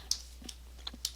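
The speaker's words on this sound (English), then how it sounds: "I'm just going to keep typing down, so I keep hitting enter." Typing on a computer keyboard while entering labels into an Excel spreadsheet, a few quick scattered key clicks over a steady low hum, close and fairly quiet.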